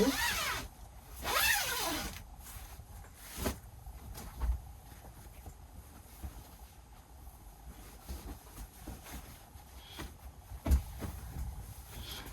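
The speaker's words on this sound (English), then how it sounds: "So let's check our zipper as normal." A zipper pulled in a quick zip near the start, followed by soft rustling and handling noises close by.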